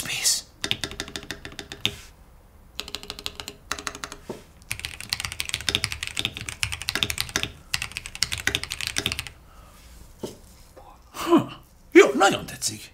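Keys clatter on an ASUS ROG Azoth mechanical keyboard in quick bursts with short pauses between them, close and fairly loud, and a few breaths and small vocal sounds come near the end.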